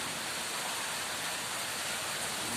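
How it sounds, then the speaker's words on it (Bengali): Rain falls steadily after a kalbaishakhi storm, a soft, even hiss of drops on surfaces heard at low level near a house on an evening with the power out, with no voices. "এই ছোট ভিডিও বৃষ্টির ছোঁয়া কি ভালো লাগছে"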